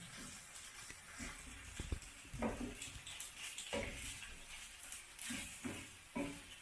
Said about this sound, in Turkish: Kaşıkla karıştırıyorum.